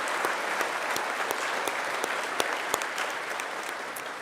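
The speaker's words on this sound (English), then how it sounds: "please join me in a round of applause to recognize all of these outstanding graduates" Steady applause from a crowd at a registered nursing pinning and graduation ceremony, many hands clapping in a continuous, even wash with a few sharper individual claps standing out, moderately distant.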